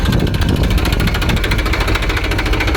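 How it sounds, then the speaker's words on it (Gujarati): Loud, steady tractor engine drone with a rapid rhythmic pulsing throb, running continuously and close up without pause. "ટ્રેક્ટર બંધ કરી દઈએ થોડીક વાર પછી ઉપાડીએ"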